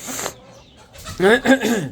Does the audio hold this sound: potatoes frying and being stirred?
no